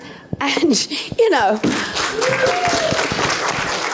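Convention panel audience at a Doctor Who event breaks into applause and some chuckling, the clapping rising over a voice as she speaks on stage.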